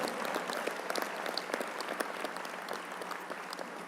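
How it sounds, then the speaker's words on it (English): Attendees at a 100 Black Men conference clap their hands in agreement with the speaker, a steady crackle of applause from a large crowd, fairly quiet and continuous without speech. "If you agree with it, clap your hands even now"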